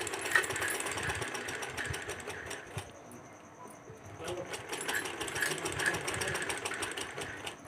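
Sewing machine stitching lace onto fabric, a steady rapid mechanical whirr and rattle close by that eases off briefly mid-run and then resumes at full speed, with no voices.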